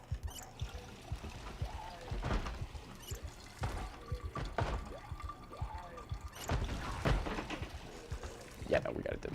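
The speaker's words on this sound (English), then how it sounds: "let me just fill all my water bottles" Water pours and trickles in short runs as water bottles are filled in the survival game Project Zomboid, with a person talking over it.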